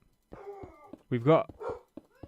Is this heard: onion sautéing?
no